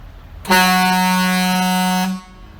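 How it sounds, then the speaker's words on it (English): A 2024 GMC Denali truck's aftermarket air horn blasts one loud, steady, harmonically rich tone lasting about a second and a half, then cuts off. "Air horn, baby."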